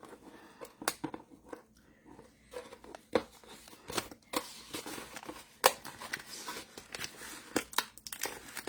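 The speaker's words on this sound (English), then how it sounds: "Let's get the scissors out and take off the shrink wrap." Scissors snip and slice away plastic shrink wrap from a crafting kit, giving sharp irregular cuts mixed with crinkling of the film, close and fairly quiet, with no talking.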